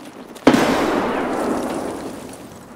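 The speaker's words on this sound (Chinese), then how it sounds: "他一直在墙边丢手榴弹" A grenade explodes in Escape from Tarkov with a single sharp, loud blast followed by a long, decaying rumble that fades over about two seconds.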